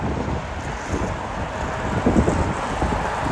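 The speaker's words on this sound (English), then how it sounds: "Sorry about the wind, everybody. It's very windy right now." Strong wind buffets the microphone at Toronto airport in a continuous low roar that swells and gusts throughout, with no voices.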